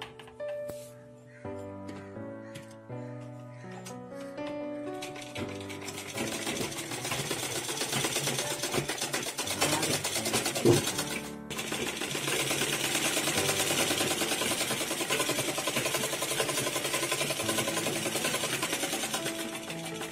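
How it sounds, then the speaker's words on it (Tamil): Sewing machine stitching a folded skirt hem, a steady mechanical whirr running continuously through most of the stretch after a quieter opening with musical tones, fairly close and even in loudness. "மடிச்சு தைச்சிக்கணும்"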